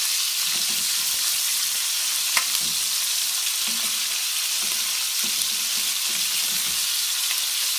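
Salt fish frying in a pan with a little oil for a stew, a steady close sizzle and crackle with occasional small pops and light scraping, no talk.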